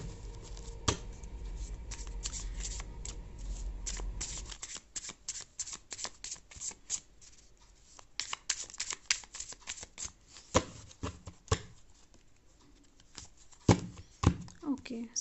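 Tarot cards being shuffled by hand, a dense run of crisp riffling slaps and flicks close up, with a low hum early on that drops away, followed by scattered card snaps and taps.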